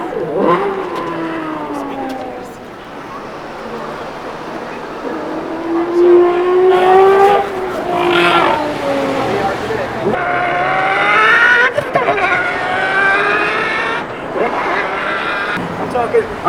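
A voice imitates drag race car engines by mouth, long rising and falling revving whines with gear changes and squealing tire sounds, loud and close, running continuously.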